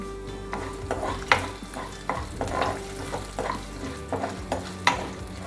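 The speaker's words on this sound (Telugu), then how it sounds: "పప్పు వేగుతున్నప్పుడే మనం ఎండుమిర్చి, కారం వేసేసి ఒకసారి వేయిద్దాం" Dal fries in a pan with dried red chilies and chili powder for gongura dal, giving a steady sizzle broken by repeated scraping stirs and a few sharper clinks, close and fairly loud.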